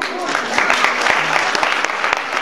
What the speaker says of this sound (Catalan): Aplaudim molt fort.